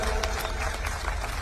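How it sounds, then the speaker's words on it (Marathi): Steady applause from an audience at a public speech event honouring a newly elected mayor in Parbhani, a dense continuous clapping texture filling the whole moment at moderate loudness with no clear break. "प्रथम टाळ्या सर्वांनी वाजवायच्या"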